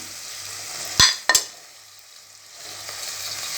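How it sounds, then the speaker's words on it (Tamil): Tomatoes for egg biryani sizzle steadily in a hot pan, with two sharp clanks of a spoon against the pan near the start and a soft, even frying hiss afterward. "இப்போது தக்காளி ஆட் பண்ணிக்கிறேன்."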